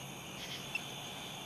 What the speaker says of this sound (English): A little tree frog